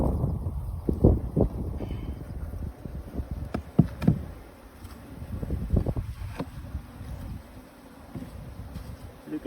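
Honey bees buzz around a hive entrance in an apiary during a summer hive check, a soft steady hum broken by sharp close knocks and bumps, with light wind noise.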